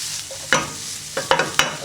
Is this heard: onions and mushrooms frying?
yes